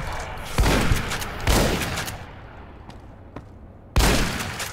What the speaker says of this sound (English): Thank God for 12-gauge shotguns